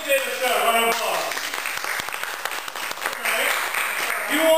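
Audience at an improv comedy show claps, a steady spread of hand claps running throughout with shouts and voices mixed over it.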